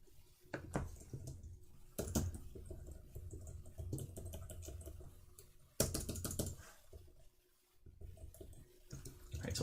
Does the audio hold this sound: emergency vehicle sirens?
no